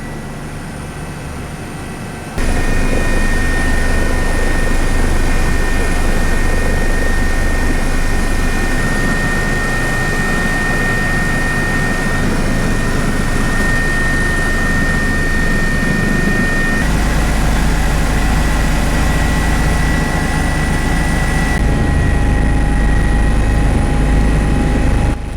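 Sécurité Civile rescue helicopter in flight, heard from inside the cabin as a loud, steady roar of rotor and turbine with a high whine, continuous and unbroken throughout with no talk.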